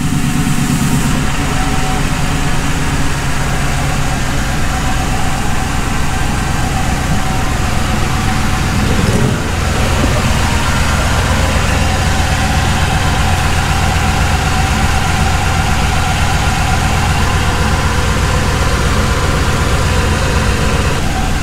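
A Crown Vic engine with a manual five-speed swap runs steadily at a loud, close, even drone, with a brief shift in tone around the middle and no talking.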